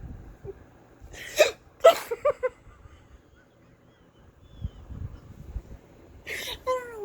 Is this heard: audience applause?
no